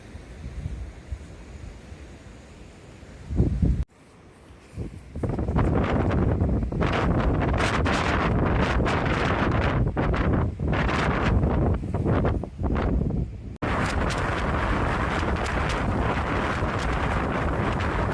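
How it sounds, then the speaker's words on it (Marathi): Strong wind roars over a mountain ridge in the Sahyadri range near Raigad, buffeting the microphone in loud, continuous gusts, with a quieter windy stretch at the start before the blast hits. "माथ्यावर बरंच वारं आहे"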